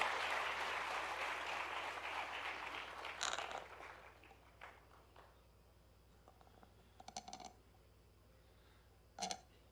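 Applause from a seated audience at a Bundeli cultural gathering, a broad wash of clapping that swells loudly, then thins out over a few seconds into scattered claps and faint background noise.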